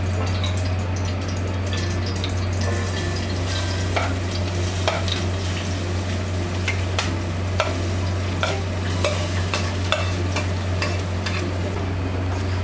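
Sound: grated coconut roasting in ghee, stirred

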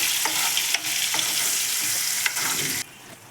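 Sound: onion, ginger and garlic paste frying and stirred in pan

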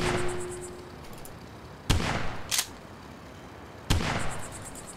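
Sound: gunshots from the video game Cooking Simulator

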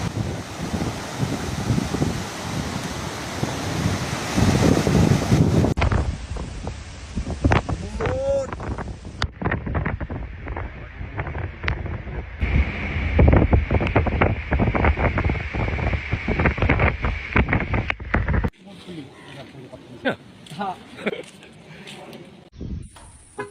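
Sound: strong tropical storm wind at Port Dickson

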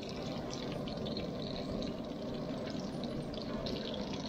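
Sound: ladling hot oil over pan-fried yellowtail snapper

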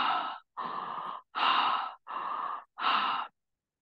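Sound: vigorous breathing out through the mouth

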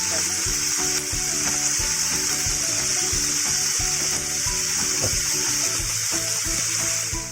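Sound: kangkong frying in oil until crispy golden brown

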